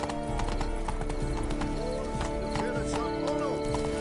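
Hooves clip-clop steadily from a galloping horse in a PS4 video game, a quick even rhythm over a constant game soundtrack, with a brief whinny near the end.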